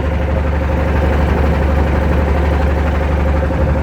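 A hired river trawler boat's engine idles in a steady, loud, continuous low drone with a constant rumbling throb throughout, with no voices over it.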